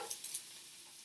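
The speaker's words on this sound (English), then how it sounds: "Hear the sizzle?" Vegetables for a veggie bolognese sizzling and frying in a hot pan, a steady close hiss with light stirring clatter.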